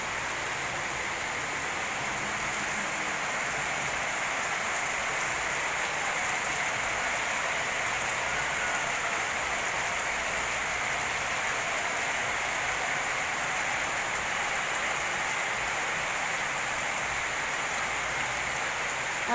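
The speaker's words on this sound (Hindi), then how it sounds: "मूसलाधार बारिश हो रही है।" Heavy torrential rain pours down in a dense, steady hiss that stays loud and unbroken throughout, with no voices over it.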